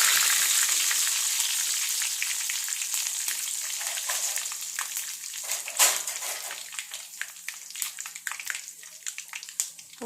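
Dried chillies and curry leaves fry in hot oil with mustard seeds for an onion pickle, making a close, steady sizzle. Scattered pops and crackles run throughout as the hiss slowly eases.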